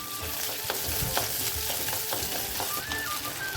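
Small onions and garlic sauté in a pan for a Kerala fish curry, giving a steady close sizzle with bursts of stirring and scraping throughout and no talk.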